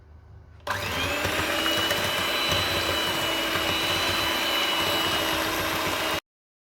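Electric mixer starting abruptly and whirring steadily as it beats batter for a gluten-free orange almond cake, a loud continuous motor drone that cuts off sharply at the end.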